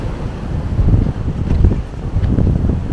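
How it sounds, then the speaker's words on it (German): Storm gusts in a garden in February, with squalls of around 80 km/h, roar and buffet the microphone in a steady low rumble that swells and dips, loud and close, with no talk. "So, jetzt geht der Sturm so richtig in Fahrt."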